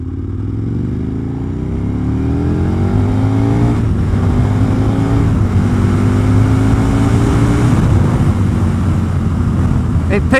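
An Aprilia RSV 1000 10th Anniversary Edition V-twin motorcycle engine runs under light throttle, a loud, close, steady hum with gentle rises and falls in pitch as small throttle inputs come and go, joined by wind rush.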